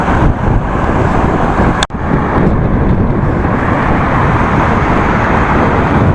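Dense car traffic in a Chinese traffic jam, a steady, loud roar of engines and road noise mixed with wind buffeting that holds constant throughout except for one instant dropout partway through; no one speaks.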